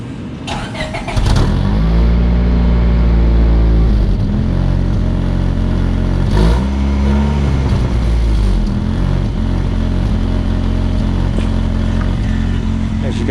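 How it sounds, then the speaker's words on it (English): A Honda Civic engine with its stock exhaust back on starts up and settles into a loud, steady idle close by, with a brief rise in revs early on and then a smooth, even drone. "But I put the stock exhaust back on, and it sounds so much better."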